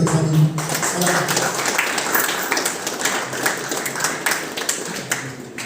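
An audience applauds the tourism office director at a Madagascar ceremony, steady clapping that stays loud for several seconds, with voices and crowd noise mixed in.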